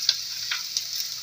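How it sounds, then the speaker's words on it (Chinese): Minced garlic and ginger fry in hot sesame oil, a soft steady sizzle close by with a few light taps of a utensil, no voices. "油熱。 爆香蒜蓉同埋薑蓉"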